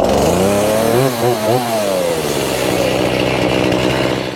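Chainsaw revving loudly and steadily close by while cutting wood in a home workshop, the pitch dipping and rising under load, no talk.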